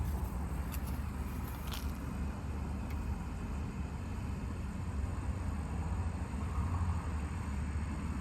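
A Nissan 240SX engine cranks over on a start attempt after a wiring harness repair, giving a steady, close, continuous rumbling drone with no clear catch or rev.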